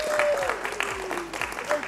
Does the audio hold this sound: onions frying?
no